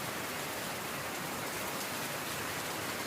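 Heavy rain pouring down on fields near Yediyur, a dense, steady hiss of rainfall that fills the whole moment without pause, close and loud with no voices.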